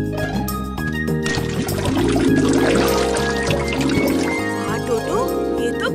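Water pouring out in a Hindi cartoon, a running liquid splash beneath background music and animated voices talking.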